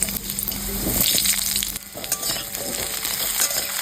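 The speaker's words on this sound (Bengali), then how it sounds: "তেলটা গরম হয়ে গেছে, এবার আলুটা ভেজে নিচ্ছি।" Potatoes fry in hot oil in a pan, a loud continuous sizzle with stirring scrapes and clatters running throughout, no voices.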